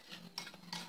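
Icing sugar glaze being mixed with milk, two or three quick soft clinks and scrapes of a utensil in a bowl, close and quiet, no talking.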